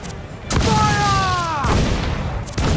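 Ship cannons firing in a naval battle in Assassin's Creed 4 Black Flag, several loud booming blasts in sequence, with a tonal shout or horn between the volleys.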